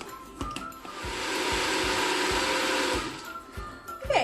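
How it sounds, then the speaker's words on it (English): A kitchen blender whirs through hummus seasoned with salt and fresh black pepper, a loud, steady grinding roar lasting a couple of seconds, framed by clicks and knocks before and after. "once our blender has blended up our hummus nicely"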